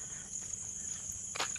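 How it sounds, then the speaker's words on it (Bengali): Crickets chirp in a steady high-pitched drone on a quiet night near resort cottages on the Shantiniketan road, a continuous insect trill with a brief rustle of footsteps near the end. "ঝিঝি পোকার ডাক"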